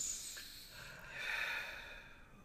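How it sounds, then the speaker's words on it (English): One slow, deep breath drawn in and let out close to the microphone, a soft airy rush that swells and fades over a couple of seconds in a quiet room. "Take a nice, slow, deep breath."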